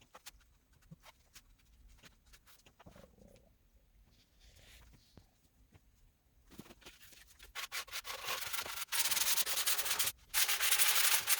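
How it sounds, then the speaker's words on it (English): Sandpaper rubs wood furniture edges, corners and around handles in quick scraping strokes, quiet and sporadic at first, then turning loud and continuous toward the end. "Went a little bit further with the sanding on the edges and the corners and around the handles."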